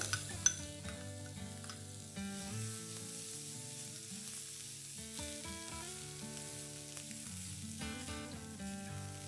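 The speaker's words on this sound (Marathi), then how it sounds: "लगेचच कांदा घालते। कांदा एक मोठा कांदा आहे।" A large chopped onion drops into a pan with finely chopped curry leaves and a little turmeric, frying with a steady sizzle that sits partly beneath louder background music throughout.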